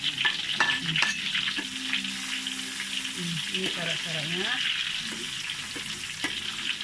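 Garlic and shallots sizzle steadily in hot oil for village-style nasi goreng with anchovies, with intermittent stirring and scraping throughout and a voice speaking briefly over the frying.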